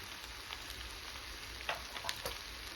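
Onion with coriander and mint fries for a clay pot biryani, a soft steady sizzle with a few faint crackles and stirring clicks, fairly quiet and free of talk.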